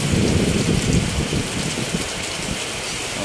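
Heavy rain pours steadily on a motorcycle repair workshop, a dense, loud wash of drops drumming on surfaces, slightly easing toward the end.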